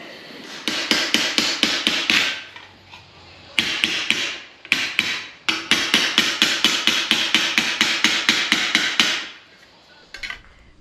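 A hammer strikes sheet metal to trim and tighten a panel on a 1940 Ford shop truck. Sharp, ringing blows land in rapid, regular bursts with short pauses between runs, loud and close, and no one speaks.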